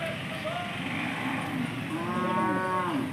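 Several cattle mooing at a busy weekly Sunday cattle market in Jodugatte, Turuvekere taluk, Tumkur district, Karnataka: long, overlapping low calls from animals at middle distance over a steady crowd murmur.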